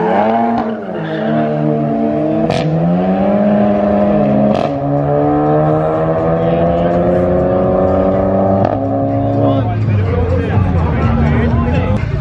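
Volkswagen GTI engine revving hard with spinning tires, a loud sustained engine note that rises and holds at high revs, with people talking over it.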